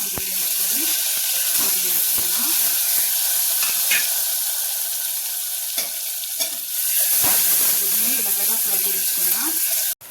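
Eggs fry in a spoonful of hot oil with turmeric, a loud, close and continuous sizzle and hiss, stirred and shifted around the pan throughout.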